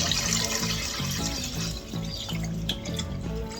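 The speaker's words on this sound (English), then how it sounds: "Okay, so you got the water in there." Water poured into a pot for cooking goetta, a continuous close splashing and gurgling stream with rhythmic sloshing, fairly loud and without talking.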